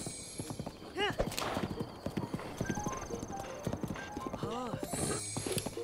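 A horse gallops in The Legend of Zelda: Breath of the Wild, its hooves drumming in a quick, steady clip-clop with a whinny, mixed with game effects and music tones throughout.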